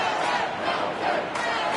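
A stadium crowd roars loudly and continuously at an AFL Evolution 2 game between Carlton and Geelong, a dense, close wash of cheering with no speech.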